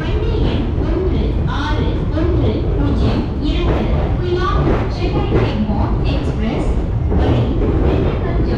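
Steady loud rumble and rattle of the Kollam Express running behind two Alco diesel engines, heard from inside the train while people talk over the continuous noise.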